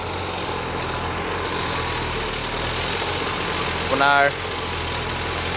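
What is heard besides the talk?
tractor engine idling while ploughing a field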